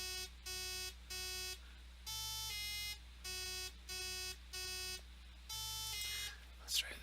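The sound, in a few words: synthesizer playing a jagged waveform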